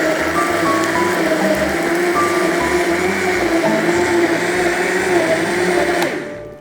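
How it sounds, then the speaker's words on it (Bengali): An electric blender whirs loudly and steadily, blending pomegranate sharbat, its motor running without pause before cutting off near the end. "শরবতটা ব্লেন্ড করে নিচ্ছি।"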